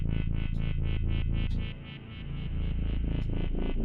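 An Arturia Pigments 7 software synth plays a rhythmic, buzzy chord pattern of repeated pulses with added reverb, briefly dipping into a washy swell before the loud pulsing resumes, with no voices.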